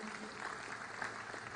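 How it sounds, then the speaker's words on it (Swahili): A short burst of audience applause at a national day celebration, steady, even clapping from a crowd that sounds somewhat distant and moderately faint. "Tumpigie makofi."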